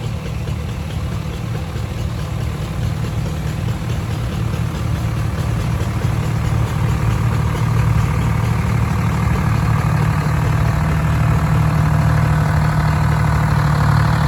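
An Oliver Super 99 diesel tractor engine runs steadily at a classic tractor show, producing a loud, continuous low throb at close range with no talking.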